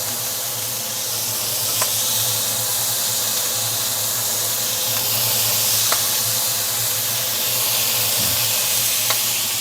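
Thick-cut maplewood bacon sizzles steadily in a pan, a loud continuous crackling hiss with occasional sharp pops and a low hum beneath.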